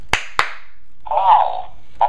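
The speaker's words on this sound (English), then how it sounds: "Double clap." A double hand clap used as a command for a small robot: two sharp, close claps in quick succession, each with a short ringing tail, followed by a brief electronic warble from the robot.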